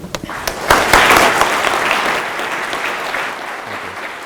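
A university lecture audience at McMaster bursts into warm applause welcoming David Miele, a dense crowd of clapping swelling quickly and then holding steady before gradually thinning out.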